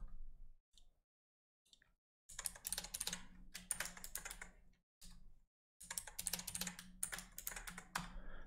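Fingers tap out quick bursts of keystrokes on a computer keyboard, close and crisp, with short pauses of silence between clusters of clicks.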